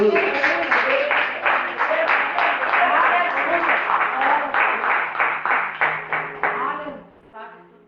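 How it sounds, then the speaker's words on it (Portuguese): A church congregation claps together in a continuous stream of rapid, loud hand claps for about seven seconds before fading out, with a voice faintly heard at the end. "Aplauda o Senhor em nome de Jesus."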